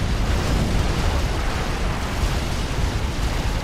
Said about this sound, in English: Was not expecting to see mobile artillery units produced there.